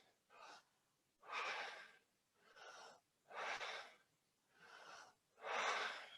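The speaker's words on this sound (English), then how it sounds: "Inhale, gasp for air. And then exhale, don't try, just breathe out." Deep, deliberate breaths during a breathing exercise: six strong, airy cycles alternating gasping inhales and long exhales at an even, slow tempo, close and isolated against silence.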